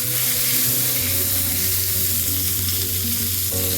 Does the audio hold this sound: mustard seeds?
yes